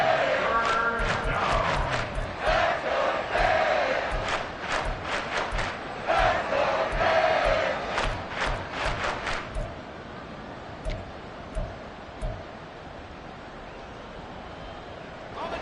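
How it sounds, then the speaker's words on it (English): A football stadium crowd roars and bangs at full volume for several seconds with sharp rhythmic thumps, then drops to a low, distant murmur broken by a few isolated bursts. "this crowd doing their best to make a lot of racket"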